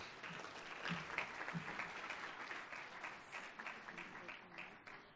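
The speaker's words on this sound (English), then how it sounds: "Please give them a big round of applause." Audience applause at a university academic achievers' awards ceremony in Pretoria, sustained clapping from a sizeable crowd filling the room at moderate volume, with a few faint voices mixed in.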